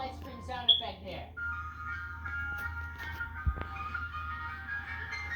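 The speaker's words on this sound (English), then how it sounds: "Yeah, I got a real ice cream sound effect here." An ice cream truck jingle plays as a thin, tinkling melodic tune, moderately loud and continuous, with a voice speaking over the start.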